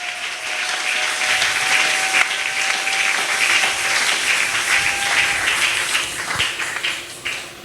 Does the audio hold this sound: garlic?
no